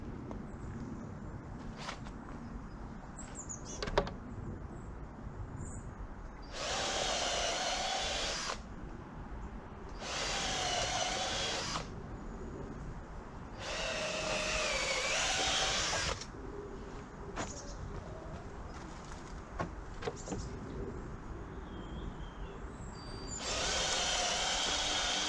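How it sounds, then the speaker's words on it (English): Several bursts of a cordless drill whirring as it drives screws into a raised garden bed, each lasting a few seconds with pauses between, over a low background hum and occasional small knocks. "So I'm going to get my screwy gun and we'll screw them all together"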